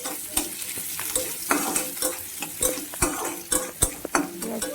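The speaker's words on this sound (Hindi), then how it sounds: "तेल गरम करी देमा पहला आउ प्याज के आमे भाजी देमा" Onions frying in hot oil in a pan, stirred with sharp, irregular scrapes and clicks of a utensil over a lively close sizzle, with no speech.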